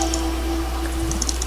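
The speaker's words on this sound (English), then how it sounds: "Sorry for the annoying clicking." Mouse clicking during a Terraria game, a quick run of light clicks over a steady electrical hum, close to the microphone.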